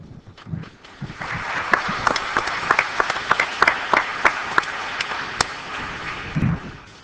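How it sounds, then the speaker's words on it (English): Conference audience applauding a panel moderator at an international governance event, a dense, steady wash of many hands clapping in a large hall for about seven seconds with sharp individual claps standing out. "I'm just vain enough to think you're actually clapping for me"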